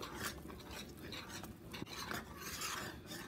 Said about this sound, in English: all we do is stir the cheese and butter in